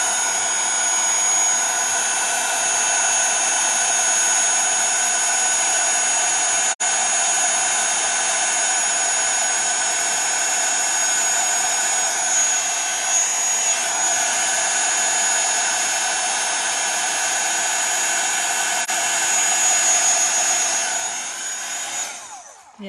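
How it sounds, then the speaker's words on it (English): A new handheld craft heat tool blows hot air onto a card sentiment in a steady, loud, unbroken roar for over twenty seconds, fading out at the very end. "Okay, so got my sentiment and my new heat tool."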